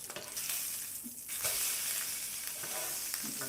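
A turned steak sears in a hot pan during a steak-and-eggs lunch, giving a steady, loud broadband sizzle with crackling pops throughout, no voices.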